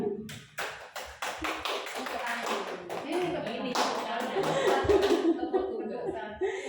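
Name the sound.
rhythmic hand clapping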